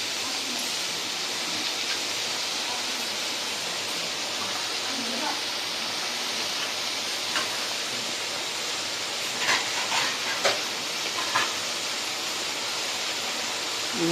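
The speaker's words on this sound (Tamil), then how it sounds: "நல்லா அந்த வாடை போகிற வரைக்கும் வதக்கி எடுத்துக்கணும்." Manathakkali (black nightshade) greens sautéing in a pan: a long, steady hiss of frying with a few brief crackles and stirring knocks toward the end.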